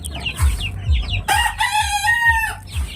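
Two-week-old young Shamo and Aseel chickens clucking and peeping close by at feeding time, with a louder crowing-like call rising near the middle of the short stretch.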